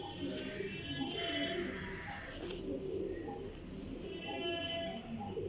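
Teddy Golden champion pigeons coo in a loft in Jhelum, soft repeated cooing close by, with a voice and faint chirps over it.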